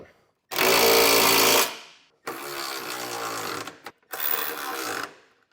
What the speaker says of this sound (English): You can come back with a 17mm size socket, snug all the bolts down.